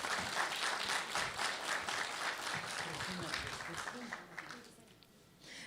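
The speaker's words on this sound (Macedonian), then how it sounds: "Аплауз." Audience at a teachers' awards ceremony applauds with dense, continuous clapping that gradually thins and fades out, with a voice faintly audible underneath.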